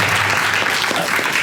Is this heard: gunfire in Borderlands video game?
no